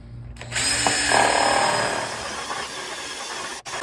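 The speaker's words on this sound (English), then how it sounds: "I'll go ahead and drill 2 holes" A power drill whirs loudly and steadily for a few seconds, biting through hardwood, then spins down briefly before revving again near the end.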